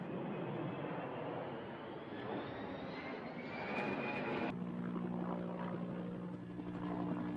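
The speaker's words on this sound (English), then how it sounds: "Planes can be seen dropping fire retardant onto the flames to try and keep them at bay." Firefighting planes drop retardant over a Kern County wildfire, heard as a sustained roaring aircraft engine drone, fairly distant, with a steady hum and no talk.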